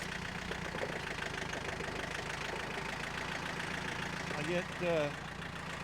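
A tractor engine idles steadily in the background at a firewood-cutting site where heavy hard maple rounds are being moved, a continuous mid-low drone while someone speaks briefly over it.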